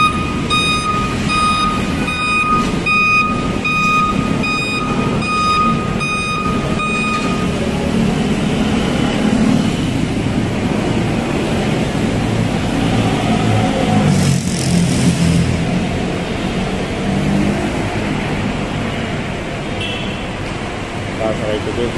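A tow truck under an expressway beeps steadily in reversing mode for several seconds, then its loud engine rumbles on alone, close and continuous amid street noise.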